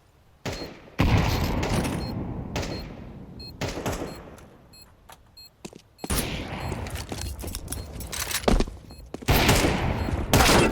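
A grenade blast and rapid gunfire from Counter-Strike on the Inferno map crack in loud repeated bursts, separated by short quieter gaps and a few lighter mechanical clicks.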